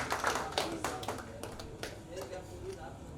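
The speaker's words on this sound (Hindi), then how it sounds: "आपकी तालियां बताएंगी मुझे कितनी देर माइक पे रहना है।" A small poetry recital audience at a kavi sammelan claps in a few scattered, sharp bursts that thin out into sporadic single claps, fairly faint and close.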